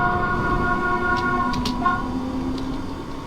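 Island Line train in Train Sim World 2 pulling away from Lake station at full throttle: steady traction whine with sustained tonal hum and rail rumble, a few brief higher squeals, continuous and fairly close, no talk.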